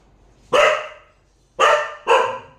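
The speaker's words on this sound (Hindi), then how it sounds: "मैक्स बीच में भौंक रहा है।" A dog barks three times indoors, one sharp bark followed after a pause by two close together, loud and near with no talking.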